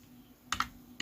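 Three or four quick, close keystrokes tap on a computer keyboard, short and crisp against a quiet background hum.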